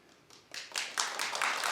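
A few scattered claps from a studio talk-show audience, starting faint and building into a light, uneven patter of hands over under two seconds.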